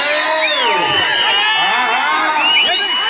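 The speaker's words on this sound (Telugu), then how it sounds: "జనాలు ఒకసారి గట్టిగా చప్పట్లు విజిల్స్ కొట్టాలా?" A crowd at a village rural sports festival roars steadily with cheers, shouts and shrill whistles, a dense, continuous wall of noise with no pauses.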